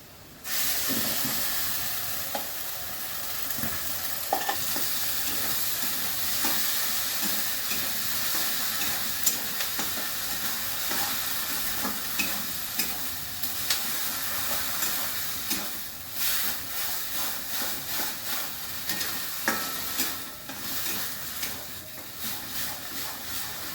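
Banana stem paste sizzles as it is fried with browned onions in a pan, a loud, steady hiss of cooking with scattered small pops and crackles throughout.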